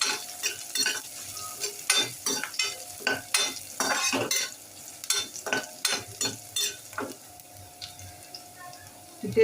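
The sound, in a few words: garlic, ginger and green chili being sautéed in a pan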